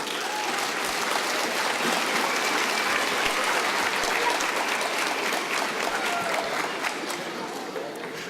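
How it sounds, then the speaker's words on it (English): An audience at a school Christmas celebration breaks into sustained applause, a dense, even wash of clapping from many hands that holds steady for the full eight seconds, with faint crowd voices mixed in. "If we can get a round of applause for them,"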